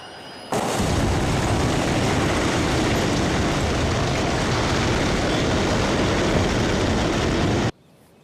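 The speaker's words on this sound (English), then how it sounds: "is how far the train went from, what, 70, 80 miles an hour?" A train passes after hitting a car, played in slow motion: a sudden, loud, continuous broadband roar that holds steady for about seven seconds and then cuts off abruptly.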